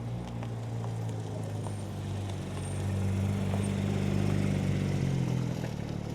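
A Porsche 911 GT3 of the 991 generation rolls in with a low, steady engine rumble that swells slightly as it draws closer, alone without talk.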